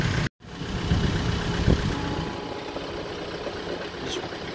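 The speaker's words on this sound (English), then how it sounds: "Just rides around in his golf cart." A golf cart's engine runs steadily close by with a low, rumbling drone that holds through the whole stretch after a brief cut at the start.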